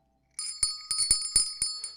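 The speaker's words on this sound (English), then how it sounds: "Oh, also Lord Crashington wants me to ring that bell." A bright, ringing bell in the video game Dorfromantik is struck about seven times in a quick, slightly uneven series. Each metallic chime rings on briefly, clear and close, with no voices.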